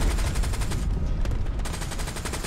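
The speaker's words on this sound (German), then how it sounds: "Wir werden aber beschossen aus dem Wald da vorne." Sustained rattling gunfire from a forest in Hell Let Loose, a World War II shooter, rolls in as a dense, continuous barrage at steady volume with no talk over it.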